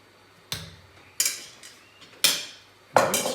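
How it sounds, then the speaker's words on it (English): A utensil clinks and scrapes against a mixing bowl four times, spaced about a second apart, while egg white is gently folded into Kaiserschmarrn batter; each contact is close, crisp and moderately loud. "Let's just mix it very gentle under the mass."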